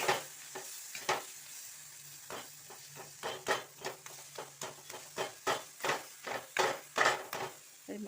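Fried food being mashed in a pan with a utensil, giving a series of sharp scraping and tapping strokes in an uneven rhythm over a faint low hum, close and fairly quiet.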